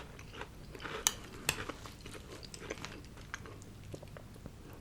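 Crunchy Captain Crunch cereal chewed close up at breakfast with blueberries, with steady soft crunching and two sharper bites standing out early, and no talking.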